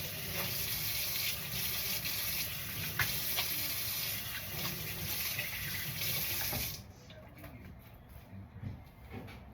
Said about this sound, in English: Hands being washed.